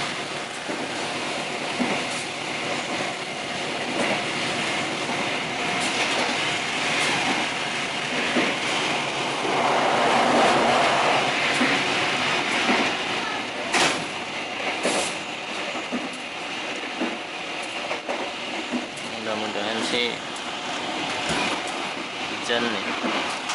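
Kutojaya Selatan train running, heard from inside the carriage as a steady rumble with faint rhythmic clatter throughout, while people talk nearby.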